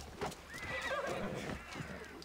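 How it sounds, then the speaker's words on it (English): In the video game Assassin's Creed Odyssey, a horse gives a loud, wavering whinny over quick clip-clop hoofbeats, all heard close and lasting about two seconds. "I feel bad for my horse. I'll call him and then realize it's not worth it, so he just follows me around."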